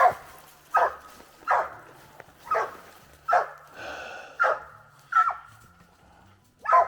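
A young coonhound barks repeatedly at a possum treed in the woods, sharp loud barks coming in a steady rhythm about once a second, with a longer drawn-out bawl in the middle and no talking.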